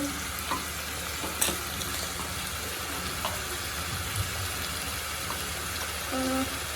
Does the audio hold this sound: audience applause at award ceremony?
no